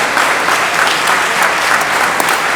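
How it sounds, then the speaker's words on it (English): An audience at the Lawrence Partnership annual meeting breaks into sustained applause. It is a loud, dense wash of clapping from many hands that stays steady throughout, with a faint murmur of voices beneath. "So a round of applause of our women leaders in Lawrence every day."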